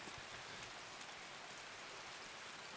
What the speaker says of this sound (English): We got a rainy map.